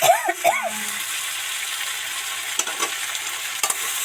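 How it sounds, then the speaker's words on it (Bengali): Steady oily sizzle of spices frying in a pan with fried pointed gourd and eggplant, stirred through for a jackfruit-seed vegetable curry; a brief voice-like sound opens it, then the hiss runs on with a few soft spatula scrapes. "ভালো করে নেড়ে চেড়ে মশলাগুলো এর সাথে মিশিয়ে দেবো"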